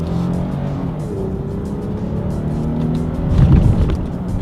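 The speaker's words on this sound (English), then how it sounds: "let's go ahead and do a quick little paddle shifter test first to see how quickly these paddle shifters react" A 2020 Lexus RX 350 F Sport engine humming steadily inside the cabin during paddle shifter gear changes, with a brief rise in rumble and revs toward the end.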